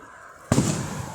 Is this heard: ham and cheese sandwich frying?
no